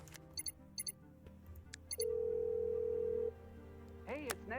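In a Nancy Drew video game, a telephone call is dialed: short electronic keypad beeps in quick bursts, then a steady tone of more than a second, followed by a brief warbling ring.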